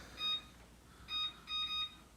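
A kitchen timer on an oven used for baking homemade bread beeps in three short bursts of rapid high electronic tones, clear and close in a quiet room.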